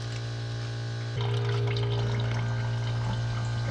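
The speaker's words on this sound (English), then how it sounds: "It's draining down now." Fuel draining out of cleared carburetor ports on a 1999 Suzuki Quad Runner 500, a steady close liquid pour and trickle that grows stronger after a second over a constant low hum, no voices.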